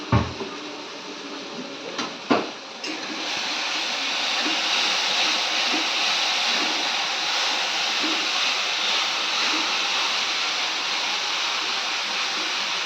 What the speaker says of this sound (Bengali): এভাবে জল দিয়ে দিচ্ছি।